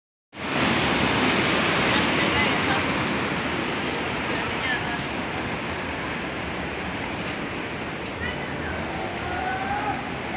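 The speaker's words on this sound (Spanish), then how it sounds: "esto es la playa Mar del Plata" Ocean surf washes onto the beach at Mar del Plata in a steady, loud, broadband roar, with wind buffeting the microphone and no break in the sound.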